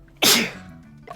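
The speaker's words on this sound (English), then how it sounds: "You sneezed 3 times." A single sharp, loud sneeze bursts out close up, then fades, followed by a faint breath.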